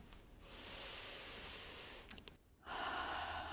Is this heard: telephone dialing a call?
no